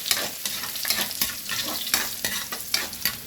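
Garlic sizzling and frying in a hot pan, with crackling bursts and occasional stirring scrapes throughout, close and fairly loud with no voices.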